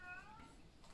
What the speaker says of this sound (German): Mein Kater dreht durch.